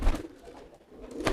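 Pigeon cooing from a Telo pigeon with a tilted-head condition, a low soft coo repeating near the start and again near the end, close by and fairly quiet, with no talking.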